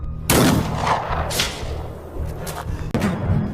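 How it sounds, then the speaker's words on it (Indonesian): A sniper's rifle shot in a film rings out sharply, followed by a booming echo that fades, then a second sharp crack near the end, with no talking. "sebuah lesatan peluru tiba-tiba menghujam salah satu dari mereka hingga tewas seketika"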